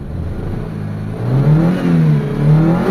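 Close engine revving from a warmed-up Mitsubishi Lancer GLXi with many parts replaced, its idle climbing into two rising rev pulls that swell and settle, loud and alone.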